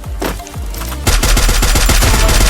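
Rapid automatic gunfire in the mobile battle-royale game Free Fire: a few sparse shots, then a dense, loud, machine-gun-like burst of closely spaced cracks, with no voices.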